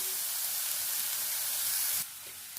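Curry leaves drop into hot oil for a Kerala jackfruit thoran, giving a steady, bright sizzling hiss that runs close and continuous before easing to a quieter crackle, with no talk.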